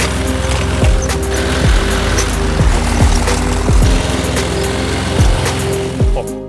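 A self-propelled lawn mower engine drives forward across a home yard, holding a steady, loud droning hum with regular ticking pulses repeating about every second, close by, with no voices.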